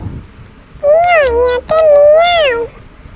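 A single drawn-out meow, split into two close parts, stands out clearly above a faint background.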